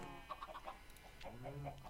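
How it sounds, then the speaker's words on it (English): Chickens clucking in the Minecraft video game, a few short soft clucks in quick bursts, heard faint over a low background. "So I got my chickens up there."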